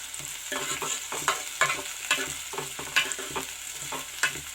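Onions and green chillies frying in hot oil in a pan for bitter gourd curry, with a loud steady sizzle and repeated scraping stir strokes at a regular rhythm, close up and with no voices.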